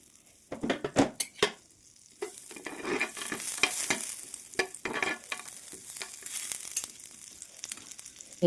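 Boiled potato is sautéed in butter in a pan. A soft sizzle runs under repeated clinks and scrapes of a utensil stirring against the pan, with the clatter coming in uneven bursts.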